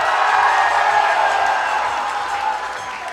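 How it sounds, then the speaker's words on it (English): A pageant audience claps and cheers in a dense, steady wash of applause that fades a little toward the end. It sounds fairly close and full, with no clear voices on top. "掌声。"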